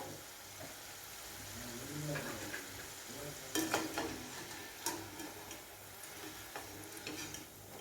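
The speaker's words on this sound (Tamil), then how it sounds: "அதுக்காக சிம்மில் வச்சு கொஞ்சம் நேரம் நல்லா ஃப்ரை பண்ணிக்குவோம்." Crispy Indian snacks fry in hot oil on low heat, a soft continuous sizzle with occasional stirring clinks and scrapes, quiet and close.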